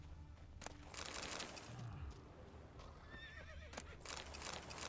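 Roach, a horse in the game The Witcher 3: Wild Hunt, lets out a clear whinny, with clip-clopping hooves and quieter ambient movement around it at low overall volume.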